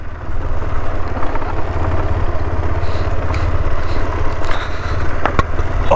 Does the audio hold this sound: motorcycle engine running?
yes